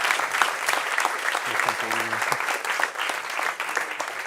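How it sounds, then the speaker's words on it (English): An audience applauds a speaker at a talk about making content for young people, steady clapping throughout with a brief low hum partway through. "Give him a round of applause"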